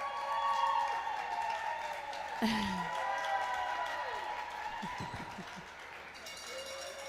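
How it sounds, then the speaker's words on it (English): A modest cheer and scattered applause rise from the crowd at a Trinidad & Tobago versus Malawi netball match, mid-distance and fairly faint, with a commentator talking over it. "A little bit and a little cheer from the crowd."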